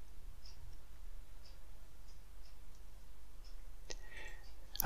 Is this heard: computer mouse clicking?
yes